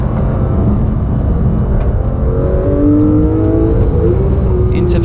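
A Porsche 911 GT3 RS engine pulls hard on a race track, a steady loud roar with rising revs in the middle, under continuous commentary.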